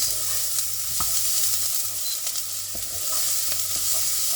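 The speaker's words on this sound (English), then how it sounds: "I'm going to fry them off for a few seconds before I put in the chilies." Chopped onions frying in a pan, a steady dense sizzle with a few soft stirring knocks, close and continuous without speech.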